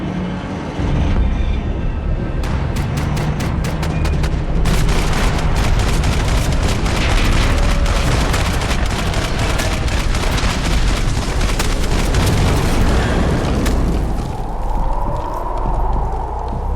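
Gunfire in the video game Max Payne 3: dense, rapid bursts of shots and sharp cracks that come and go over a loud, busy action soundscape, trailing off into a swelling tone near the end.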